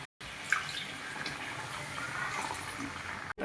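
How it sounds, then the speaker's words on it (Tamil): Steady rushing water poured into a pot of Tamil village-style country chicken curry, a continuous broad splashing flow that starts and stops abruptly, close by with no voices. "எண்ணெயிலேயே இப்போ தேவையான அளவுக்கு தண்ணி ஊற்றிக்கலாம்"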